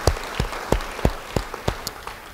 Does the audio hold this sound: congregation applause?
yes